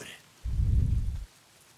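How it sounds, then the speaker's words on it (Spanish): Rain in the video game Days Gone, a soft wash of falling rain with a brief low rumbling swell in the middle that fades out, heard faint and alone. "Llueve siempre."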